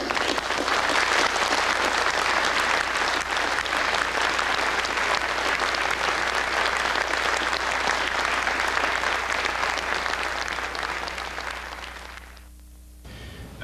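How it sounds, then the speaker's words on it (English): A large conference audience applauds steadily and loudly for a long stretch, the clapping thinning and fading out near the end. "a big round of applause"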